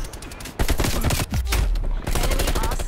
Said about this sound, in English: I was getting shot for a little while there.